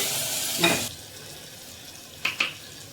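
A frying curry sizzles in a pan as cinnamon-clove powder is stirred in, with a soft rush as it goes in, a low steady hiss, and two quick close utensil scrapes near the end.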